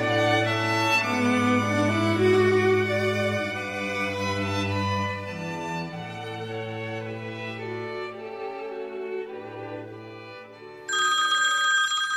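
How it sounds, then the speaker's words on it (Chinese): A melodic electronic ringtone plays on and on in sustained tones, then a brighter, sharper ringing tone cuts in near the end. No one speaks. "电话咧响的声音"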